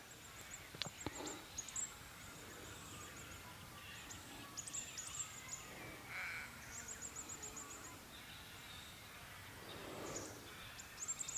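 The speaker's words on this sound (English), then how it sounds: "it's the sound of the cacophony of birds out here this morning, including our rooster Bobby Martin, who's crowing up near our shed" Faint morning birdsong outdoors, with scattered chirps and calls and a rooster crowing near a shed, all soft and distant over quiet ambient background.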